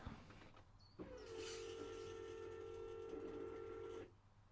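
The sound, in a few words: fuel pump running in Vauxhall Astra K fuel tank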